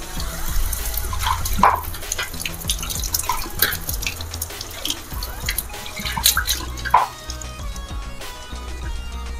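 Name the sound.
water poured onto gram flour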